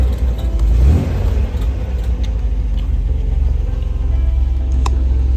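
An Austin Healey classic car engine cranks and catches, swelling into a brief rev, then settles into a steady low rumbling idle heard up close.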